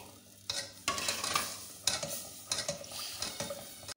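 Repeated scraping stirs as milk is stirred into a lasagna sauce in a pan, with a soft sizzle beneath, several strokes in uneven rhythm, close by and fairly quiet.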